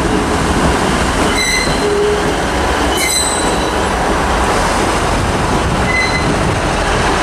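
A pair of coupled Class 158 diesel multiple units rumbles loudly and steadily at Carlisle station, with brief high-pitched wheel squeals cutting through the roar.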